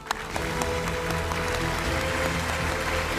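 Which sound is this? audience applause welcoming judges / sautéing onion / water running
audience applause welcoming judges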